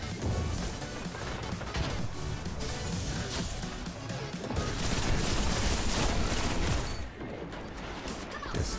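Dense, continuous gunfire and explosions from a Destiny Crucible multiplayer match, loud and layered with overlapping shots and impacts throughout and no clear talk over it.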